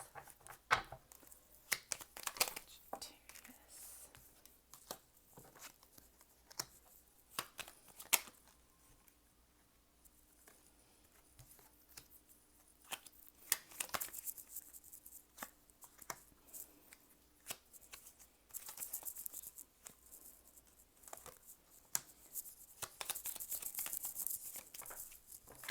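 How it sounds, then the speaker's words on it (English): Tarot cards being shuffled in quiet bursts, soft riffling and slapping that comes and goes over a long stretch, faint and close, with a brief pause and no talking. "one more shuffle and then we'll start pulling our clarifiers"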